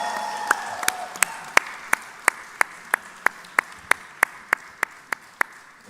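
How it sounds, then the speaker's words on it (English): Steady, evenly spaced claps ring out one after another at a slow, regular pace, sharp and fairly close, at a birthday gathering for Chiranjeevi with Ram Charan present. "So big round of applause and big congratulations"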